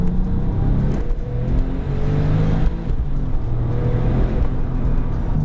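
A Porsche 997 Turbo with a manual gearbox drives along, its engine giving a steady, loud, close drone with road roar and no talking.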